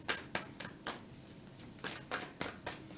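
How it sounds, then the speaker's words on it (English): Tarot cards are shuffled by hand in a quick series of soft, papery riffles and slaps, about a dozen bursts at a fairly even rhythm, quiet and close with no talk. "They want me to slow down shuffling, okay?"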